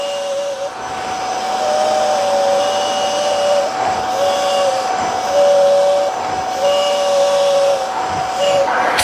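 A Bissell Little Green Max Pet SmartMix 38572 carpet cleaner running its suction over carpet to dry it, a loud steady whining motor drone with rhythmic dips as the nozzle is pushed and pulled.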